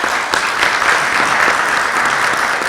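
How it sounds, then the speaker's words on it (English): A town hall crowd gives school board candidates a round of applause, loud, continuous clapping from many hands filling the room without any talking. "let's one more round of applause for our school board candidates"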